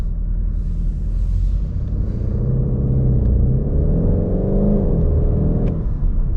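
Cabin of a VW Golf 8 GTD, a 200 hp diesel, accelerating on the open Autobahn: a steady, loud engine drone whose pitch climbs smoothly as speed builds, over continuous road rumble.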